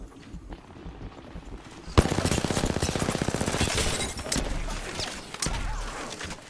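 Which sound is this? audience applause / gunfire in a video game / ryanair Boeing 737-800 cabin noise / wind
gunfire in a video game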